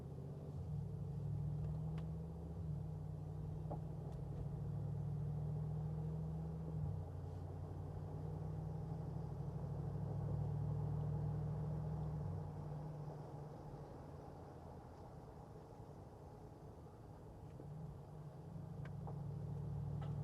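A 2020 Mercedes-Benz G-Wagon's engine gives a deep, steady rumble while driving, low and continuous with slight swells in intensity, no voices over it.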